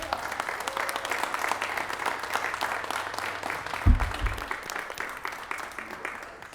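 Audience applause at a San Diego city Welcoming Week celebration for immigrants and refugees, a steady round of clapping from a sizeable crowd filling the whole stretch at an even level, with a brief thump partway through.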